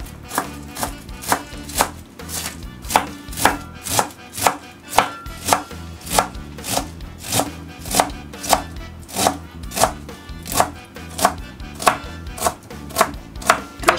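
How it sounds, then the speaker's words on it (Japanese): A knife chops cabbage into coarse mince on a board for Kansai-style okonomiyaki, with quick, even, close strokes repeating at about two per second for the whole stretch, no talk, over faint background music. "キャベツ粗みじん切りですね。"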